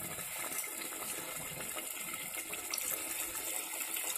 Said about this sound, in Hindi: और अब हम इसके अंदर पानी डालेंगे।